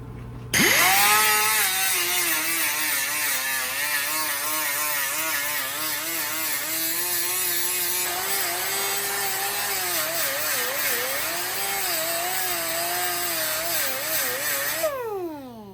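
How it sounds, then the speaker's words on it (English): An angle grinder dresses the welds on a steel pipe anvil with a loud, steady, close-up whine. The pitch wavers as it bites the metal, then spins down at the end. "I'll take the grinder and dress up some of those welds"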